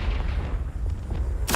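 Spell explosions in the Hogwarts Legacy video game: deep booming blasts rumble low and heavy through the clip, ending in a sharp bright burst near the close, with no talk over them.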